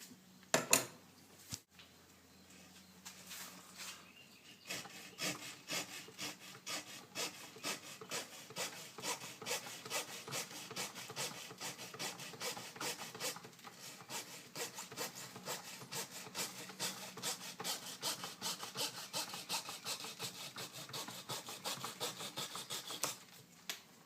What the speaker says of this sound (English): I do think I'm going to get my Dremel and hollow that out a little bit